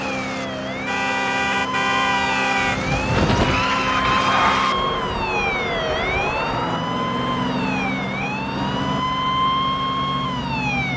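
A police car siren wails loudly and close while moving along the I-95 highway, with rising and falling tones cycling over the steady rush of the vehicle and traffic.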